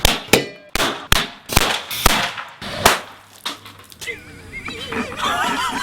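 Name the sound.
firecracker exploding on metal grill top in cardboard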